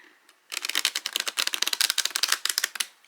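Tarot cards are riffle-shuffled in a quick burst of rapid crisp clicks lasting a couple of seconds, close by, with no talking.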